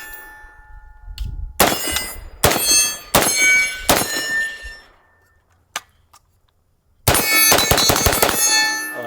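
An AR-15 rifle with a muzzle device fires several loud, close shots that come singly and then in a quick cluster, each ending in a sharp metallic ringing tail.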